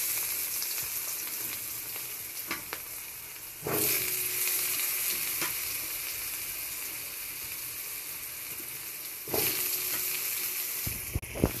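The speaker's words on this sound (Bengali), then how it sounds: "আলুটা ভেজে নেব" Potatoes frying in a pan with bay leaf and green chilli, a continuous close sizzle with two louder surges as more goes into the oil and a few clinks of a utensil.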